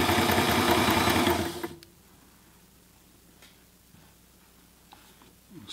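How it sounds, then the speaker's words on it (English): A Sailrite Ultrafeed LSZ1 sewing machine stitches fabric in a loud, steady burst for under two seconds, then stops, leaving quiet room tone with a few faint ticks and clicks. "Sew a little bit more so I can look at it."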